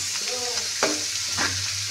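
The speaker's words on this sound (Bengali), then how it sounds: "এবার ভাজাটা হোক আস্তে আস্তে, ঢেকে দেবো, ভাজাটা এবার হবে।" Saag greens with turmeric fry in a pan, a steady hiss of sizzling oil broken by a couple of scraping stirs from a spatula, close and continuous.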